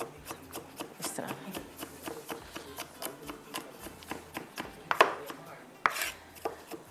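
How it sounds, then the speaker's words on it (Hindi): Fresh garlic chopped with a knife on a cutting board, rapid steady knife strikes repeating through, close and crisp, with a couple of sharper louder chops near the end. "गार्लिक को चॉप कर लीजिएगा"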